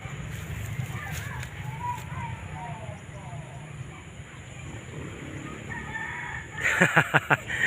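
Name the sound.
rooster crowing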